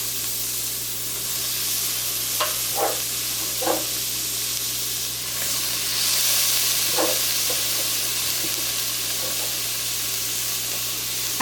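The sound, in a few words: celery, onion and tomatoes sizzling as they are stirred into the curry pot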